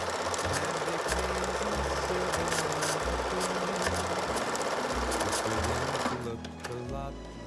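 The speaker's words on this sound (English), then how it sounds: "I'm just sewing them together down one edge with a 1/4 inch seam" Fabric triangles for a quilted Christmas tree skirt are joined with a quarter-inch seam as a sewing machine stitches in a steady, rapid mechanical chatter. The machine is loud and close and slows to a stop near the end.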